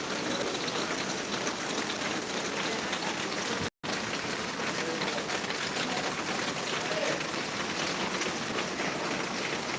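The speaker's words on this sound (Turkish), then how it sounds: "Şansa çok fena yağmur başladı." A constant downpour roars evenly throughout, broad and close, heard from shelter in a covered bazaar in Marmaris, briefly cutting out once before continuing unchanged.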